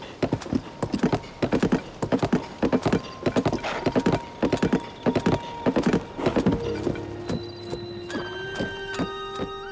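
Horse hooves trotting in Tears of the Kingdom, a steady close clip-clop rhythm that slows and stops, followed by sustained game tones.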